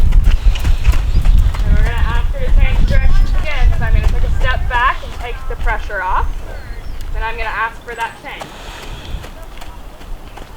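A horse canters in an outdoor riding setting, and rhythmic hoofbeats thud under a rider's spoken cues and voice throughout.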